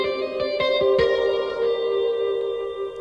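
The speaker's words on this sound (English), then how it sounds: "adding this talk box in between the EQ and the reverb really adds a whole other dimension to a reverb" A sustained guitar chord rings out with a vocal, vowel-like talk box tone, washed in long reverb that slowly decays; no talking.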